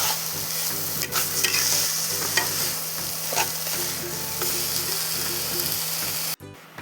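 Green peas cooked down with ginger and green chilli paste in a wok, stirred steadily with a spatula scraping and clattering over a constant close sizzle, with no talking until a sudden cut near the end.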